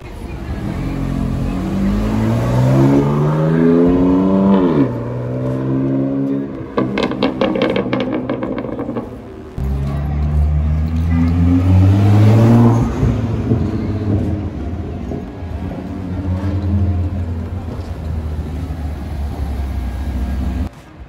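A supercar with an all-carbon engine bay revs hard during supercar spotting in Knokke, Belgium, loud and close: rising and falling engine sweeps, a sharp crackling burst, then more long revs that settle into a steady rumble.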